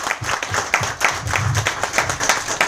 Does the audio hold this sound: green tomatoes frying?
no